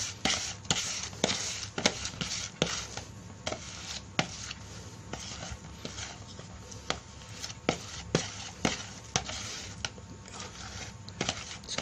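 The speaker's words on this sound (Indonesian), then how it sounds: "Oke, langsung saja kita aduk." Fish bait mixture being stirred and mashed in a container, a steady series of sharp knocking and scraping strokes at an irregular quick rhythm, close and moderately loud with no talk.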